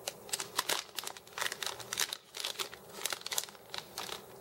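Close crinkling of a plastic fruit snack wrapper with sharp scissor snips and rustles in quick irregular bursts, no talking.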